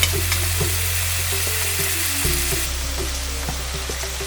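Base gravy ladled into a hot kadai sizzles loudly and continuously, a close, steady frying hiss with light stirring scrapes and no talking.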